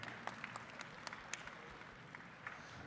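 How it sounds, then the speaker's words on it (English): An audience applauds at the announcement of the 2022 RAGBRAI bike ride route, a steady, even wash of clapping from a crowd that continues throughout, fairly faint and heard from a distance. "let's again, round of applause for everybody on that screen"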